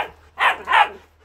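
A Malinois puppy barks twice on command, two loud, close, sharp woofs in quick succession during protection-dog training.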